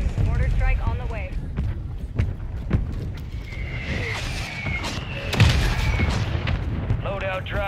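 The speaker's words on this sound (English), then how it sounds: "Mortar strike on the way." Booming mortar-strike blasts in a video game, several heavy thuds spread across the stretch amid other game noise, with people talking over it.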